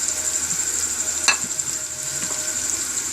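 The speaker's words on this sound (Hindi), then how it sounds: "भिंडी है, ये हम डालेंगे। और इसे अच्छी तरह मिक्स करेंगे।" Okra stirred into frying masala in a pan, a steady hiss of sizzling oil throughout with a single sharp scrape of the spoon near the middle and a few softer stirring knocks.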